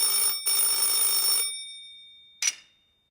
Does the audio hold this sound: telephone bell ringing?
yes